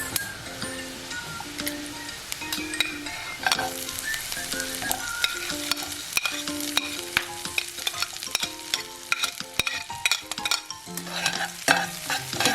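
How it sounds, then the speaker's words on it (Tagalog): Garlic and onion sauté in a pan for a shrimp dish, with a bright sizzle under rapid, repeated spatula scrapes and clinks against the metal. "Igisa natin yung ating bawang sibuyas."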